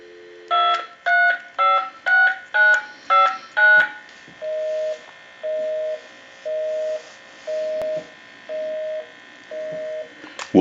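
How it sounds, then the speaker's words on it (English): A converted Galway Irish Crystal telephone dials with seven quick, evenly spaced touch-tone beeps, loud and close. A series of regular on-off line tones follows, then a sharp click at the end. "Okay, we can give you some dial tone."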